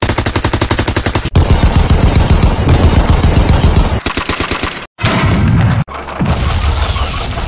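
Loud, close bursts of rapid machine-gun fire and heavy cannon booms fill a WWII army men stop-motion battle, with brief pauses between volleys and no talk.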